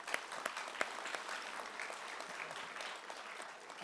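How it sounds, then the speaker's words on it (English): Applause from the audience at a Bolles School swim and dive banquet, a quiet, steady patter of many hands with a few sharper claps standing out, fairly distant and unbroken. "We'll give them a round of applause."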